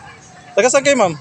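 A pet dog in a busy town plaza gives a couple of short yips or whimpery barks up close, overlapping a voice against faint crowd murmur.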